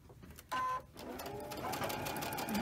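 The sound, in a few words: sewing machine sewing quilt block fabric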